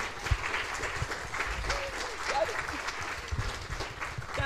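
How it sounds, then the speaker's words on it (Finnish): An audience at an anniversary seminar claps steadily throughout, a moderate room-filling applause with faint voices mixed in. "Joo, saa taputtaa."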